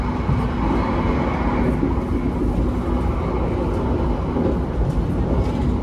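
A KA Gajayana executive passenger train speeds along the rails, heard from inside as a loud, continuous rumble with a steady hum and rolling wheel noise, with no speech.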